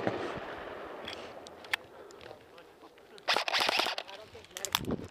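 Video game gunfire bursts out in a quick cluster of sharp, loud shots in the middle of the clip, with a few scattered single reports before and after over a low, noisy game background.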